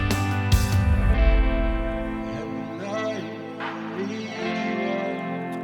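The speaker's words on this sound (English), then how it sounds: "So there's a lot of reverb on it, a lot of this master echo, and it just makes it sound enormous." Vocals drenched in heavy master reverb and echo in GarageBand, a loud sustained wash of voice and music where notes smear and trail into long, ringing echoes.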